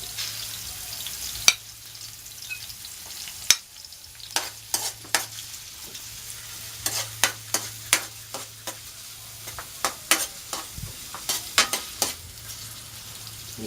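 Onions and garlic sauté in a pan, a soft steady sizzle broken by frequent sharp clicks and scrapes from stirring, close and fairly quiet, with no voices.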